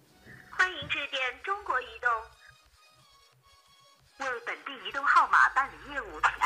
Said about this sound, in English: So I am dialing customer care.